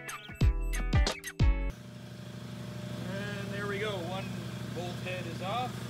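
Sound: power tool cutting exhaust bolts off a Toyota RAV4

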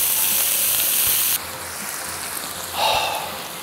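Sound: beef searing in a pot for red wine stew

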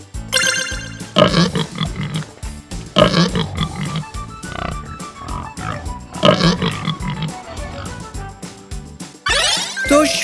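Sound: pig grunting

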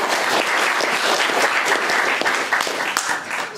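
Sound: audience applause

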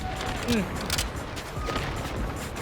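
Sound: gunfire in the video game Delta Force

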